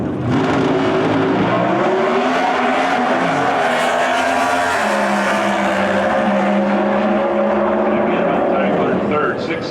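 A Pro Stock drag car from the Dodge team makes a qualifying run at the 2023 NHRA Finals, its loud engine roaring and shifting through rising and falling tones for the whole stretch, close and dominant, with track announcers talking over it.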